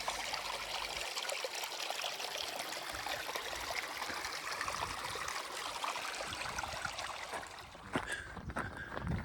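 Creek water trickling steadily over rocks in McKittrick Canyon, Guadalupe Mountains, a close continuous babble and dribble with no voices.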